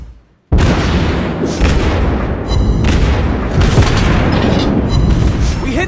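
Shell hits exploding in the naval battle game World of Warships Blitz: a sudden loud boom opens a dense, roaring run of blasts that stays heavy and continuous, with further impact bursts layered over the rumble.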